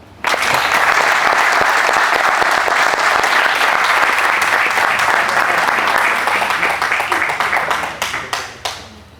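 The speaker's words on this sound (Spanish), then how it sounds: "¿Otro aplauso?" Sustained applause from a group gathered at a jiu-jitsu technique class, dense and steady for several seconds before thinning into scattered final claps.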